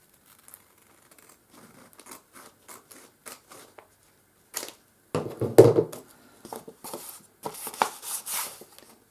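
Large scissors snipping through stiff cardstock, a series of short crisp cuts followed by louder, longer crunching snips up close.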